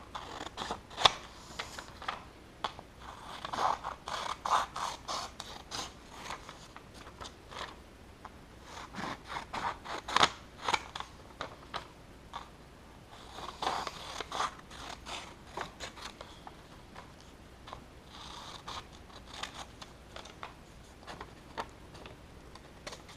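Scissors snipping along marked lines on paper for a Greek and Latin roots notebook, a steady series of short, crisp close-up cuts in uneven bursts with brief pauses, no talking.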